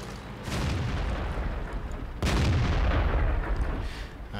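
Two heavy booming cannon shots from a T26E4 Super Pershing tank in World of Tanks, one near the start and a second louder blast about two seconds later, each followed by a long rumbling tail.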